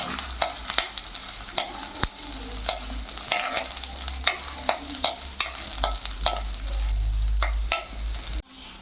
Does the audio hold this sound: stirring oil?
yes